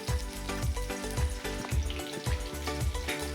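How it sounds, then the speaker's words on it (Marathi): Green chilies frying in oil in a kadhai for kanda poha, a steady close sizzle with soft rhythmic stirring pulses through it. "2 वगळ्या तेल टाकते, त्यामध्ये मिरच्या कढाईला ठेवते."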